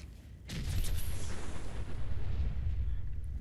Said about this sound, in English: Big booms.